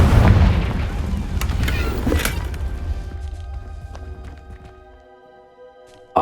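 Fire spell blast in Hogwarts Legacy: a loud booming burst opens, then rumbling debris and crackle decay over several seconds into quieter game ambience, ending with a sudden sharp hit.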